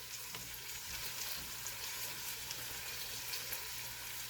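Seared meat tossed into a borscht pot sizzles in a steady, soft frying hiss with faint stirring, close but low in level, with no talking.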